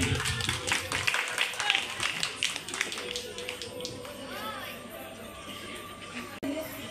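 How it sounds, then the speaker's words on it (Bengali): An audience at a school ceremony honouring high-achieving village students claps together in a steady spatter of many hands, with background chatter and shuffling throughout. "সবাই মিলে হাততালি একটু।"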